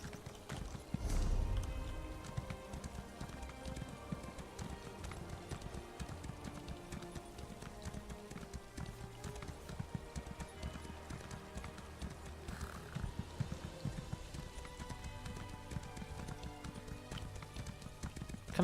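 A horse gallops steadily through Morrowind in Elder Scrolls Online, its rapid hoof beats running continuously over game music and ambience, with one louder thump early on.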